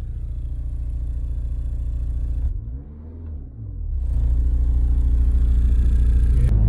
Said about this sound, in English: Do you hear that massive amount of rumble?